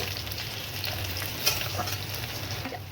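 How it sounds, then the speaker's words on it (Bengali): Crushed garlic hitting hot oil with already-fried onions in a pan, giving a steady close sizzle with a faint stir or scrape near the middle, and no talking. "পেঁয়াজগুলো ভাজা হয়ে গেছে, আমি রসুন থেতোগুলো দিয়ে দিলাম।"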